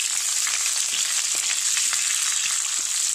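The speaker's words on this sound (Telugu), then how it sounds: "1 నిమిషం వేయించుకోవాలి." Garlic, ginger and green chillies fry in a pan for a broccoli tomato curry, sizzling steadily and close with faint crackles and stirring scrapes throughout, no voices.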